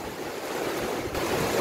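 Heavy rain pouring steadily, a dense, constant roaring hiss with no gaps.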